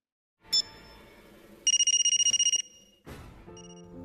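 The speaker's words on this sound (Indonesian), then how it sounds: "saat Raj menelpon, HP Saksena yang justru berdering." A mobile phone rings in a scene from an Indian film, with a steady pulsing electronic ringtone in the middle, set between other louder sounds and tones.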